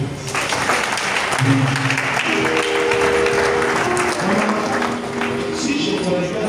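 Steady, loud applause from a church congregation during a Sunday worship service, filling the space continuously with some voices and music underneath.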